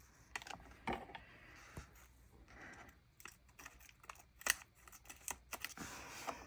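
Scissors trim paper tabs for a journal setup, giving a series of sharp, quiet snips and clicks at an irregular pace, close by with soft handling rustle between cuts.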